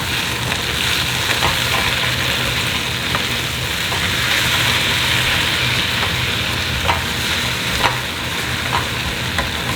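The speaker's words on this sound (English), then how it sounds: "The just egg has just hit the pan." JUST Egg plant-based egg frying in a pan with leftover bacon grease, a loud, steady sizzle crackling throughout with scattered small pops.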